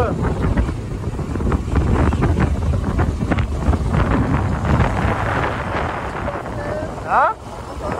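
Strong wind in Upper Mustang, Nepal, buffets the microphone in loud, continuous rumbling gusts, roaring low and heavy for the whole stretch.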